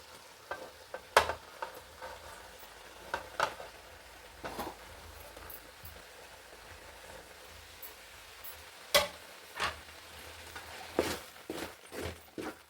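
Cooked rice goes into a palak spinach mixture in a pan and gets stirred, with faint sizzling under intermittent sharp scrapes and knocks of a spoon against the pan.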